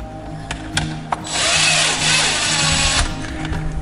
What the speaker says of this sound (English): If you're using a drill like this,